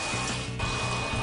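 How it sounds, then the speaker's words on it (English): Cold tap water running steadily into a sink, a continuous rushing flow with no talking. "So we'll fill up our sink with some cold water."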